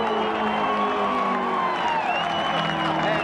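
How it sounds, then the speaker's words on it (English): Crowd at the 1982 Bathurst James Hardie 1000 motor race cheering, whooping and applauding the winner Peter Brock, a dense continuous roar of many voices and claps with a commentator's voice faintly over it. "And what a reception from the crowd."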